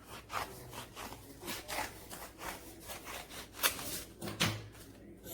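Scissors cutting folded brown paper into strips give a run of soft, rasping crunches in a steady rhythm, close and moderately loud, with no one talking.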